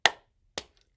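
Two sharp hand claps from children singing a Pride story-time song at a public library, spaced about half a second apart, the first louder, with silence around them.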